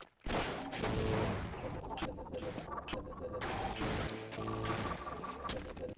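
Dense gunfire from the Half-Life video game, with rapid overlapping shots and bursts forming a loud, continuous barrage over several seconds, with faint voices mixed in.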